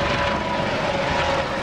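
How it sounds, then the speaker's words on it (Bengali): A helicopter passes over a zoo, heard as a steady, loud rotor and engine drone with a sustained tonal hum and no break or fade. "হেলিকপ্টার গেল, সেটাও আমরা দেখলাম"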